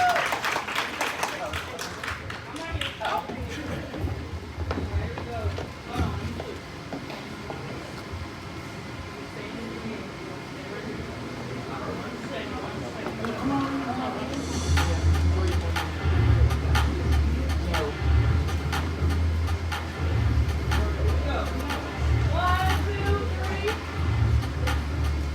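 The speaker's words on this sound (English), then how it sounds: "Y'all give her a round of applause." Audience applause at a House of Mary first anniversary event, a broad wash of clapping with cheering and talk over it, swelling louder in the second half.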